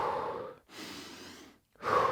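Heavy, steady breaths during a break in a TRX leg workout, two long exhales separated by brief pauses, close and fairly quiet with no speech.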